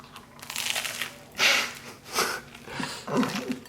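Bites into a crusty Argentinian choripan sausage sandwich, three or four close crunchy chewing bursts spaced about a second apart, each followed by quieter munching, with no talk.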